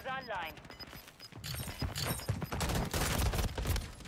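Rapid, dense gunfire from Call of Duty Modern Warfare 3 multiplayer erupts loudly and continuously after a brief voice and pause at the start, with rattling, overlapping bursts.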